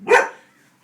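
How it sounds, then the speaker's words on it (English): One sharp, loud bark from a small poodle barking at a balloon, close and alone, fading quickly into silence. "She's barking at the balloon."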